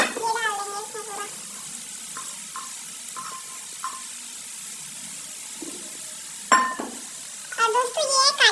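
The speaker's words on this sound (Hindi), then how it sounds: "उनको मैं इसमें डाल दूंगी तेल में" Ingredients fry in hot oil in a pan with a steady, faint sizzle that runs throughout, while a voice is heard briefly at the start and again near the end.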